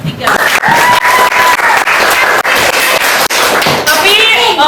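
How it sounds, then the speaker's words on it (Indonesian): A classroom group claps for three students, with steady, fairly loud applause that continues for a few seconds and carries a few cheers. "Tepuk tangan untuk mereka bertiga."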